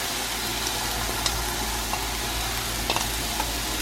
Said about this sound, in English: Now I'm gonna add the noodle to my pan. And this egg cheese mixture.